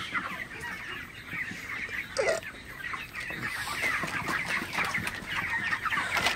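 A flock of broiler chickens on a farm clucks and chatters steadily, a dense close chorus of overlapping fowl calls with a heavy six-kilogram bird among them, with no talk.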